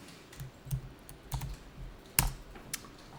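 Computer keyboard typing while item names are entered into accounting software, a few soft, irregular key taps close by, quiet and alone.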